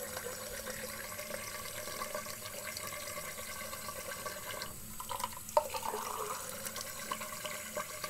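A tap runs steadily at a sink while someone rinses their face, a soft, constant splashing with a few small splashes and drips.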